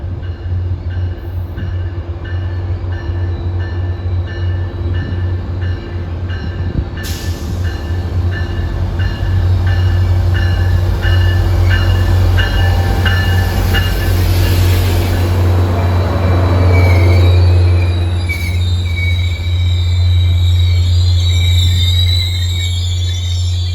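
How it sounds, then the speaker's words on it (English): A Caltrain baby bullet express from San Jose passes trackside, a loud sustained rumble of bi-level cars with a deep engine drone, rising clatter and wheel squeal as it goes by, no talk. "I know you have a baby bullet scheduled out of San Jose at 3:57, train 707"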